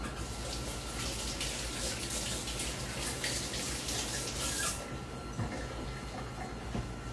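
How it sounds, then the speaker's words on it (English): Tap water running steadily into a kitchen sink while hands are washed during muffin baking, a continuous close splashing hiss that stops abruptly near the end, leaving a faint drip and quiet room tone. "let me wash my hands."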